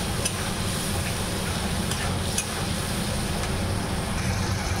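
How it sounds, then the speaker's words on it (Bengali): A spice paste sautéing in a pan for a potato, pointed gourd and paneer curry gives a steady, even sizzle, with a few faint clicks of utensil on the pan. "মশলাটাকে আমি ভালো মতন কষিয়ে নিব একদম"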